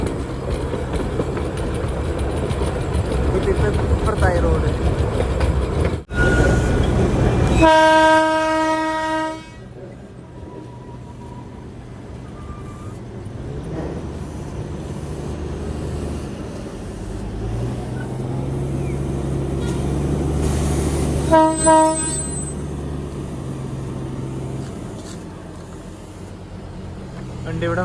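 A Darjeeling Himalayan Railway train rumbles along on its run from New Jalpaiguri, with loud rolling wheel noise, two sharp horn toots, and someone speaking over the clatter as it passes close by.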